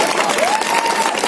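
Loud, dense crowd applause fills a political rally where Navjot Singh Sidhu is speaking, a steady wash of many hands clapping with a thin sustained tone running through it.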